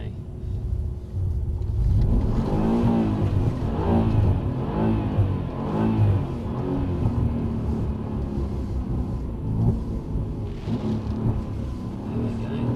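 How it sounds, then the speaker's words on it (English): A Mercedes-AMG car drifts on a track at Brooklands, London, its engine revving and rumbling loudly with rising and falling pitch throughout, while a person talks over the noise. "I'm going to drift this car almost at any speed."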